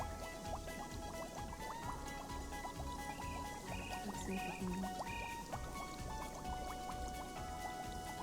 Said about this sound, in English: I like the boiling stuff.